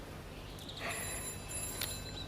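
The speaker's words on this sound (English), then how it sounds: "Your phone's ringing." A telephone rings faintly in a quiet room in a radio drama, two short bright bursts of bell-like ringing with a thin sustained tone between them.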